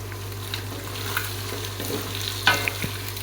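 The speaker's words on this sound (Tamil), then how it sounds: "இந்த ஸ்டேஜில் நம்ம நெக்ஸ்ட்டு ஆனியன் ஆட் பண்ணிக்க வேண்டியது தான் நல்லா வதங்கட்டும் ஆனியன்" Onion frying with beaten egg in a pan, a steady low sizzle with a constant hum beneath and a few sharp scrape and clink accents from stirring near the end, no voices.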